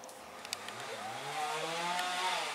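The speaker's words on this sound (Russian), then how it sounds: "и пилят вдалеке" Sawing far off in the distance, likely a chainsaw, heard as a faint revving whine that rises and falls over quiet background hiss.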